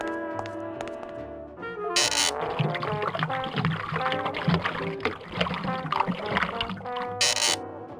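Fake ocean water splashing and pouring in the Grim Fandango video game, a loud, sustained watery churn lasting several seconds, with two short bright bursts over game music and no speech.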